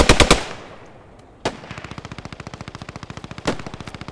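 Machine gun fire in Post Scriptum from an American squad's machine gunner near a windmill: a few loud close shots, a pause, then a long rapid steady burst of evenly spaced rounds with louder cracks at points.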